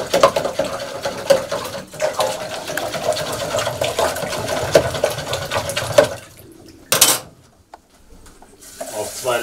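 A pigeon health supplement is stirred into about two liters of water, giving a steady rhythmic swishing and clinking for several seconds, then a few quieter scrapes and a short splash near the end.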